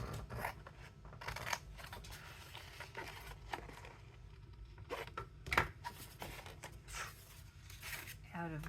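Scissors snip through a greeting card to cut out a pocket, giving a series of short, close crisp snips and paper rustles at a quiet level, with faint talk in the background.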